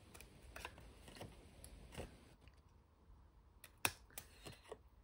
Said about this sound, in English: And then we'll just angle cut these four corners.